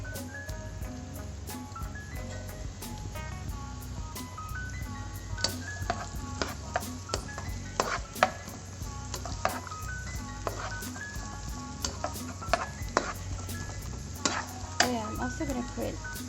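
Onions fry in a pan for halal Brazilian chicken stroganoff, a steady sizzle punctuated by repeated sharp utensil clicks and scrapes against the pan, with faint background talk.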